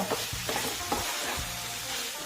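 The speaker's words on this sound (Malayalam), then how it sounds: "ഇത് നമുക്ക് നമ്മൾ പൊരിച്ച് വെച്ച കോളിഫ്ലവറും കൂടി ചേർത്ത് കൊടുക്കാം. ഇത് നന്നായിട്ടാണ്ട് മിക്സ് ചെയ്ത് കൊടുക്കുക." Fried cauliflower florets are stirred through hot oil in a pan, with a steady close sizzle broken by several distinct scraping strokes of the spoon against the pan.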